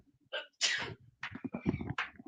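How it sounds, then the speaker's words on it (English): A single close sneeze with a sharp intake of breath before it, followed by a brief burst of sound. "I think I'm going to sneeze."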